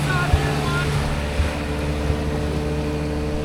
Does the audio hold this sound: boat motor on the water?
yes